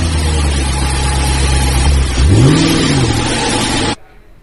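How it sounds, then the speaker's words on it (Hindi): A battery-operated 12-volt kids' ride-on toy Mercedes, model FT998, starts up with a loud steady electronic engine tone that swoops upward like a rev, then cuts off abruptly. "गाड़ी स्टार्ट हो चुकी है।"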